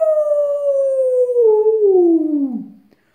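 A human voice imitates a wolf howl, one long sustained falling "ouh" that slides slowly downward for nearly three seconds before fading out, close and loud, alone.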